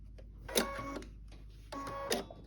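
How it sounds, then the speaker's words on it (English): A sewing machine stitches a 1/4 inch seam allowance in two short bursts of whirring run, each with a sharp peak, separated by a brief pause, close and fairly quiet. "we are going to make sure that we sew this with a 1/4 inch seam allowance all the way down"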